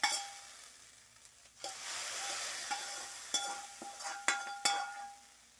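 Hot oil sizzles and crackles steadily as spices are tempered in it, with a few sharp pops and spatters rising over a bright, hissing wash close by.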